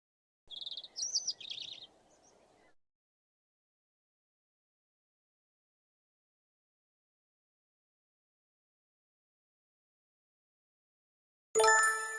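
A bird gives a short burst of high, quick chirps near the start. A long silence follows, then another bright call at the very end.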